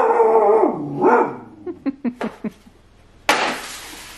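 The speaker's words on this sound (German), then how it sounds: "Der hat doch eigentlich nur angefangen zu bellen, weil da im Film dann was war" A dog at home lets out a couple of drawn-out howling barks, then a quick run of four or five sharp, close barks, followed by a burst of noise.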